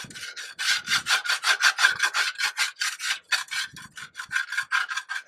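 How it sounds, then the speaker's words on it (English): Crust is scraped off a truck part beneath a lowered truck in a rapid run of rough back-and-forth strokes, about twenty rhythmic rasps close and loud with no pauses. "I'm gonna scrape all that crust off of there"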